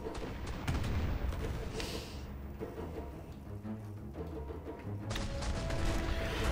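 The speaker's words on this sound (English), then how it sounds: "Keep firing, boys, keep firing." Artillery cannons on airships fire in the game Airships: Conquer the Skies, a dense barrage of booms and cracking shots rolling on continuously, loud and close, with bursts of heavier impacts.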